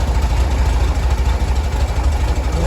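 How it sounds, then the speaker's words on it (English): Close-up, steady idle of a cold Corsa car engine: a loud, low, throbbing rumble with a quick regular pulse that holds even throughout, with no speech. "So there's where she's idling at the moment."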